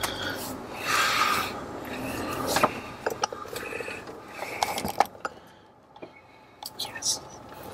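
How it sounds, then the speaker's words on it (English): A camera shifted on its mount in a vehicle during a tornado chase gives off scattered clicks, bumps and handling rattles at close range, mixed with whispered voices and low background rumble. "I'm going to have to readjust my camera here"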